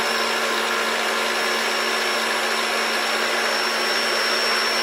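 Electric mixer stirring a thick apple bundt cake batter, a loud, close, steady whine that holds without pause.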